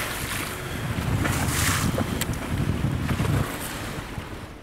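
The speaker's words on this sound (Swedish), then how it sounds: "Konstigt, när det väl blir vind så blir det alltid för mycket vind." Strong wind blows on a boat during a fishing trip, buffeting the microphone with loud, gusty roaring rumble that swells and eases, with water and waves washing faintly underneath.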